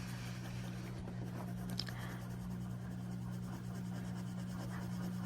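A coloured pencil is pressed hard across thick, toothy watercolour paper, giving a continuous soft scratchy rasp close up over a steady low electrical hum.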